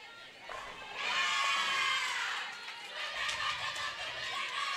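Stephen F. Austin supporters cheering after a double at a college bowling championship, a burst of shouts and whoops from a nearby crowd that swells, then settles into continued chatter and yelling.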